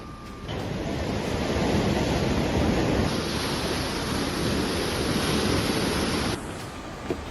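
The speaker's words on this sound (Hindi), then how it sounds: "भारी बारिश के चलते नदी उफान पर है, जिससे क्षेत्र में खतरे की स्थिति उत्पन्न हो गई।" Alakananda river swollen after heavy rain in Uttarakhand, a loud, dense broadband roar of rushing floodwater that surges in after a short quieter start, holds steady for several seconds, then drops back, with no speech.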